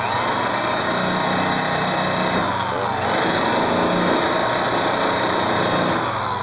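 A power drill spins a wire brush against a VW Combi split-screen body, scouring paint from a weld hole; a steady, loud high-pitched whine with grinding scratch runs continuously throughout.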